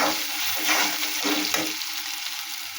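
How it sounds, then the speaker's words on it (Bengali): Koi fish frying in a pan with turmeric and salt, giving a steady, fairly loud sizzle with a few stirring scrapes and no voices. "লবণ দিলাম, কড়া করছি।"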